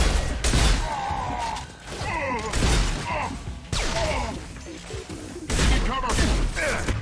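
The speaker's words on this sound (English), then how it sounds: "Taking heavy fire!" Rapid bursts of gunfire and heavy impacts ring out during a firefight in Mass Effect 2, loud and close, with short gaps between volleys and a voice shouting in combat underneath.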